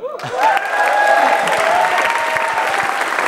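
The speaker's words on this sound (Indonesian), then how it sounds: "Oke oke tepuk tangan dong." Applause from the studio audience at a televised stand-up comedy competition, loud and full after a brief voice, with many hands clapping continuously and some music tones underneath.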